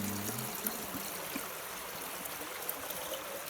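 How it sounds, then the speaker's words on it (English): Water pours from a kettle outdoors beside a homemade coffee-can rocket stove, a steady, trickling stream that runs unbroken and fairly quiet with a few small splashes. "open the kettle. I'm gonna pour it."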